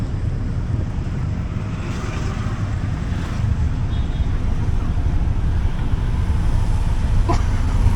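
A tuk-tuk ride through the streets of Phnom Penh: a loud, continuous engine rumble mixed with heavy wind buffeting against the microphone, with no clear breaks or talk.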